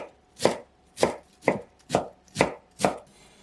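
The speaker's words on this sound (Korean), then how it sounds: "씻은 양배추는 가늘게 채 썬 다음 작은 크기로 써세요" A knife shreds washed cabbage into thin strips on a cutting board, six crisp, evenly spaced chops ringing out close and clear with no talk.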